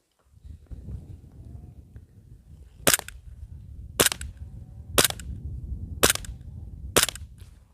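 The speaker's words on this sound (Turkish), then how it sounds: "Red Dot'ta atış yapacağım." Five sharp pistol shots fired with a red dot sight at an outdoor range, evenly spaced about a second apart, loud and crisp over low background rumble.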